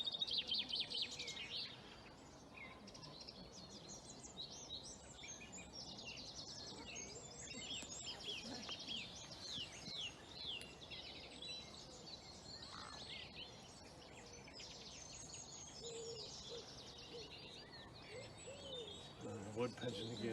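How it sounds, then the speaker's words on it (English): Blackcap singing within an April dawn chorus, high warbling phrases recurring among other birds over low outdoor ambience, moderately faint and distant, with occasional murmured voices nearby. "There's also a blackcap in there singing."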